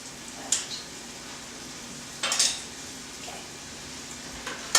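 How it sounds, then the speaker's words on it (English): Quiet, steady sizzle of garlic and shallots frying in a pan, with a few brief scraping bursts as they are pushed around, no talking. "push around the garlic and shallots until you hear that sizzle"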